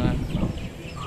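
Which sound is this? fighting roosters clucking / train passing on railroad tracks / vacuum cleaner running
fighting roosters clucking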